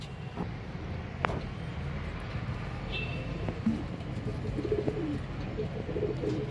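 Breeding pigeons of a Pondicherry racing line coo in low, murmuring calls, a few soft coos standing out over a steady background hum of outdoor ambience.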